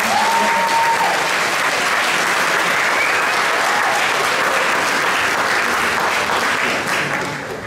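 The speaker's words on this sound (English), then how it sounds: "big round of applause for our SME graduates" A school hall crowd gives a long, loud, sustained round of applause for graduates at a junior prizegiving, dense clapping from many hands that tapers slightly at the end.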